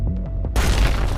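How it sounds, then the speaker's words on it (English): A sudden explosion in a video game breaks in after a moment of quiet electronic tones, a loud booming blast followed by a dense crackling rumble that holds to the end. "What's happening? An explosion?"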